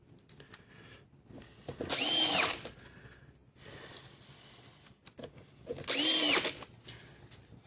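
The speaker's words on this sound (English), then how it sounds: "then run a couple screws in it real quick" A power drill drives screws into a wooden guide while a wood trim piece is set up for a circular saw: two loud whining bursts of about half a second each, with quieter handling noise between.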